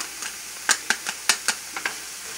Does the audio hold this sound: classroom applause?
no